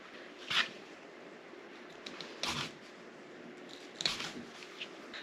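A blade cuts into squirrel skin during skinning, giving three short, faint crisp snips spaced a couple of seconds apart against a soft room hiss.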